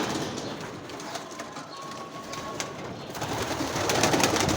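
White pigeons coo softly and continuously close by in a coop in Saudi Arabia, with a faint background hum and no talking.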